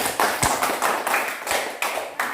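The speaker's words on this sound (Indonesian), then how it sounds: "Tepuk tangan dulu." Classroom students clap their hands in a brief burst of sharp, uneven claps, several distinct slaps spaced across a couple of seconds, fairly close and with no talking.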